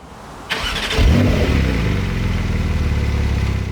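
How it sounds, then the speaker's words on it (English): Porsche 992 Targa 4S engine barks to life and its exhaust revs up loudly, then settles into a strong, steady close-up drone with no talking. "for petrol heads, what's more important is getting exhaust sound."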